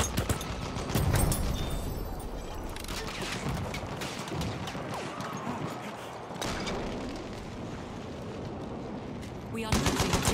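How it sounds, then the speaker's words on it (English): Machine gun fire rattles in Battlefield 1, with rapid bursts and booming shots packed densely together, loud and close, mixed with other battlefield noise. "Machine gun!"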